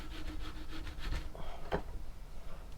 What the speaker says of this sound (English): So give it a good rub with the brush.